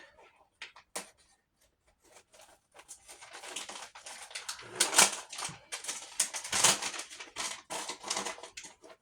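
Scissors snipping and paper crinkling while trimming the back of a paper piece in a junk journal, close and fairly quiet, starting with a few isolated clicks before building into denser rustling and cutting.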